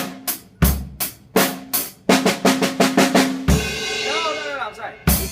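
A drum fill played up close: a series of sharp, evenly spaced snare and tom strokes building into a quick eight-note paradiddle roll, ending in a ringing cymbal crash and one final hit.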